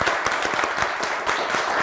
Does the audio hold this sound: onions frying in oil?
no